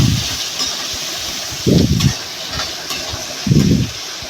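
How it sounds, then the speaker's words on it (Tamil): Onions sizzle steadily in hot oil while being sautéed for fenugreek curry (vendhaya kuzhambu), a constant bright hiss broken by a couple of low thumps from stirring, heard up close. "உடனே வந்து நம்ம வெங்காயத்தை போட்டு வதக்கிக்கலாம்"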